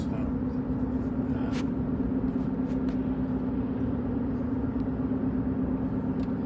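Steady low engine and road rumble from inside a moving car, constant and close throughout, with a few faint clicks and no talking.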